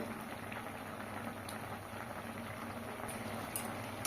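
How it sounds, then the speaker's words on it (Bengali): A potato and yardlong bean curry boils in a pot, giving a soft, steady bubbling hiss with faint pops, quiet and close, with no talking. "আলুগুলো সিদ্ধ হয়ে গেছে, আর একটু ফুটিয়ে আমি নামিয়ে নেব।"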